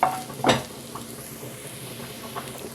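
Fried egg being stirred in a hot pan, a couple of quick spatula scrapes over a soft continuous sizzle.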